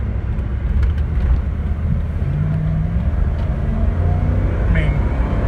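Steady, close engine drone and road rumble from a 2001 Dodge 15-passenger van cruising at speed, continuous throughout with a faint whine rising near the end.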